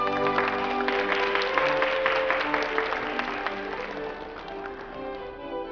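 Sustained applause from a banquet audience for a couple about to dance, a dense steady clatter of many hands that swells early and then eases slightly, with no voices over it.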